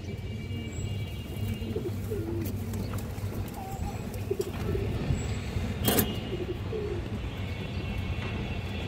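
Rare black-necked pigeons coo in repeated soft low phrases, fairly close, over a constant background hum with a faint passing car.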